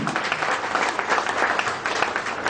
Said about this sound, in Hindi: मेरे गुरु को जोरदार ताली।